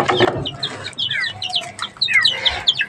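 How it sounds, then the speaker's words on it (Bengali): Backyard chickens cluck and chirp nearby in quick, irregular bursts, several birds calling over one another with no talk. "মুরগিগুলো খাওয়ার জন্য দেখো কি করছে"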